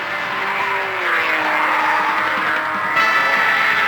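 Race cars braking into a hairpin at a 1977 road race, a loud sustained engine drone with falling pitch and tire noise, close and continuous.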